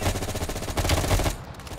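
Rapid automatic gunfire in the video game Call of Duty Cold War, a dense loud burst of closely spaced shots that cuts off abruptly near the end.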